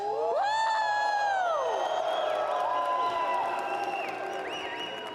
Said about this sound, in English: We have such passionate fans in the crowd tonight.